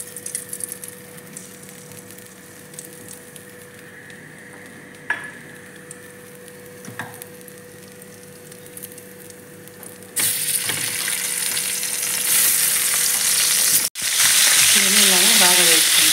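Tomatoes dropped into hot oil in a kadai burst into a loud, steady sizzle after a quiet stretch of faint kitchen clatter, then keep frying close up with occasional stirring.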